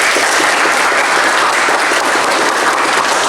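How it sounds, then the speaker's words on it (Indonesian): A classroom audience claps in sustained, dense applause, loud and close, a continuous crackling wash of many hands with no break in the clapping. "Oke, tepat sekali, kita beri aplaus."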